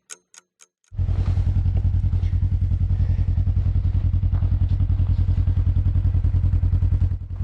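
A Yamaha snowmobile pushing through deep snow on a narrow single track under a heavy load, its engine loud and close with a fast steady chattering drone after a few sharp clicks at the start.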